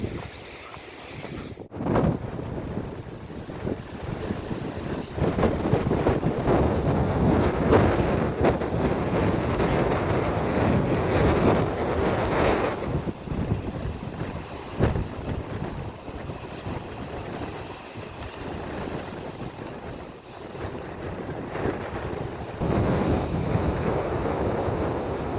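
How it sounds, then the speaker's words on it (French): Strong wind blasts and buffets the microphone on a forest hiking trail near Le Pilon de Saint-Clément, a steady loud roar with gusts rising and falling throughout and no talking. "Sinon, le vent il est vraiment fort."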